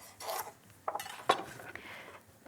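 A knife slicing a carrot into rounds on a board in a home kitchen, a few separate crisp cuts and knocks against the board, close and fairly quiet.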